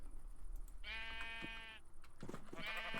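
Two distinct, quavering bleats come from sheep in the video game Ancient Kingdoms as they are put into pens. The first is long and steady, the second shorter near the end, both fairly quiet and heard alone.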